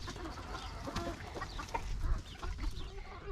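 Chickens and a rooster clucking softly and irregularly after being let out of a coop on a farm, faint and close-ish with scattered overlapping calls.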